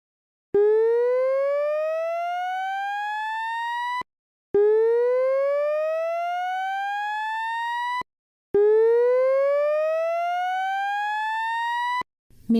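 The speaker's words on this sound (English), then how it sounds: "The fire alarm system is finished." A Notifier fire alarm system under test sounds three loud whoop tones, each sweeping upward for about three and a half seconds, separated by short silent gaps.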